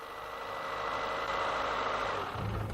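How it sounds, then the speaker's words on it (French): A Citroën AX car engine idles steadily with a low, even rumble and hum, continuous and fairly close throughout, with no voices. "Mettre le moteur en marche."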